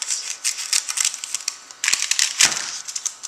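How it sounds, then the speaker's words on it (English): Scissors cut off excess paper in a string of crisp, quick snips and rustles, close and fairly loud, alone without talk. "What I'm going to do is just cut this excess paper off the sides, like that."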